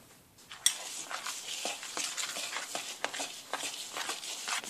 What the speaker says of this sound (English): Now add your butter and mix well.